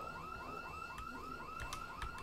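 A looping, warbling electronic alarm wails at a music festival in the zombie survival game Project Zomboid, cycling in a steady rhythm and sounding continuous and moderately distant, with a few faint clicks and no voices.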